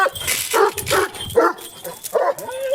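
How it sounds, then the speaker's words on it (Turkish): A dog barks and yips repeatedly in quick, loud bursts close by, with whimpering tones between barks. "tor zaten çok gürültü yapan bir köpek"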